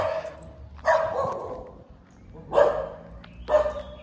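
A dog barks from behind its gate at someone walking past on a nature walk in Malaysia, four sharp barks spaced irregularly, close and fairly loud over quiet outdoor background.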